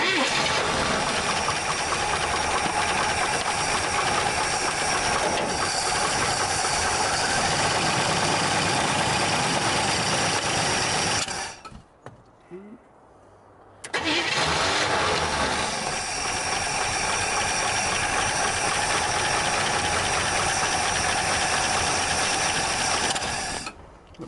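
A 1965 Chevrolet Bel Air engine starting for the first time in 27 years and running loud and rough with lifters clacking, cutting out briefly before restarting and idling steadily.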